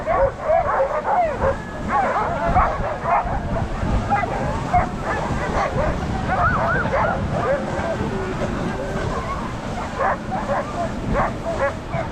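A team of sled dogs barks and yips excitedly and without pause on a mountain run above Juneau, with scattered whines mixed in. A voice calls to them in short bursts over the steady, close, loud din.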